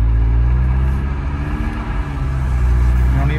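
A Ford EcoBoost car spins a donut in the snow, its engine a close, steady low rumble that dips slightly midway and swells again, with faint talk underneath.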